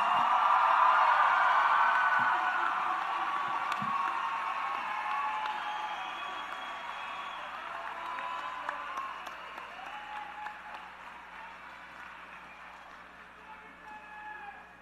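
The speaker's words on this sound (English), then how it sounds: "Come on, let's give our seniors a big round of applause." A high school graduation crowd in Boca Raton applauds the seniors, a broad spread of clapping that starts strong and gradually thins and fades across the large venue, with faint cheers and reverberation.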